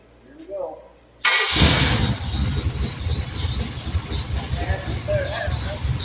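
An engine fitted with a converted Holley 600 carburetor built from spare parts cranks after a brief silence. It catches abruptly and settles into a steady, loud idle nearby, while faint voices murmur in the background.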